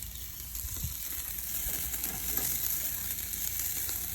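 Aubergines grill on a barbecue with a steady soft sizzle and faint crackles. The sizzling holds at an even moderate level with no talking.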